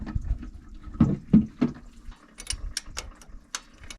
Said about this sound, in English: Losing water underneath there.